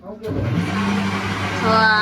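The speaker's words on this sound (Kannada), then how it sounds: "mixie sound" A mixer grinder whirs loudly and steadily after a brief quiet start, its motor drone continuous and close.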